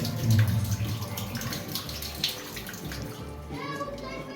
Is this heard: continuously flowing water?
yes